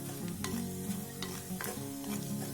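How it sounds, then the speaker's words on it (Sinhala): Spices tempering and turning golden in a pan for a spicy tuna (bala malu) fish curry, with steady sizzling and a few scraping stirs, heard close and without talk. "ඔන්න දැන් නම් ඔක්කොම ටික රන්වන් පාටට හැරිලා හොඳට ටෙම්පරාදු වෙලා තියෙන්නේ."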